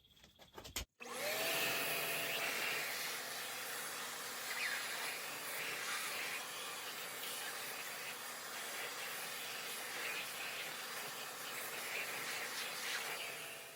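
A vacuum cleaner runs continuously, a loud steady high-pitched whine and rushing hiss that starts abruptly after a brief click and holds for over ten seconds.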